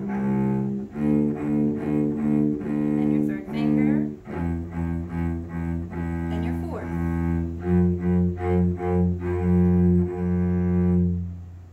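Cello played as a beginner exercise on a single string, a steady run of sustained bowed notes following one after another with no rests, close and clear with no talking.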